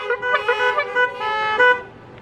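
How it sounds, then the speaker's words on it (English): Car horns at a church blessing of the animals sound in a series of honks, several overlapping toots in quick succession, fairly close and loud with no talk. "4 honks, please."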